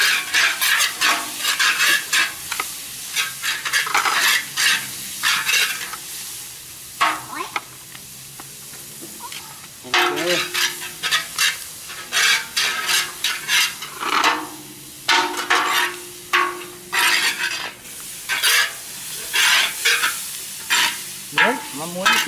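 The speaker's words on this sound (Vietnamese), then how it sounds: "Chiên bộ đuôi này này lên xong rồi sau nấu sau." Pieces of tail frying in a pan with coconut and garlic, sizzling steadily while a utensil stirs and scrapes in repeated bursts, with faint talk in the background.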